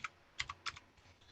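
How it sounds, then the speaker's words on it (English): Typing on a new, less clicky computer keyboard, a few soft key taps in a short irregular burst, quiet and close. "I got a new keyboard, so it's not quite as clicky as my old"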